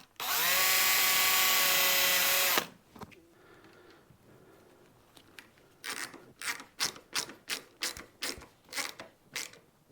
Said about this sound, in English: just to drill some holes and fit the little screws